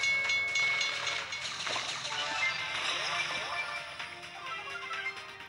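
A train in the video game Brawl Stars rumbles and clatters past with hissing, screeching metallic tones and rhythmic clacking, loud at first and easing slightly as it goes.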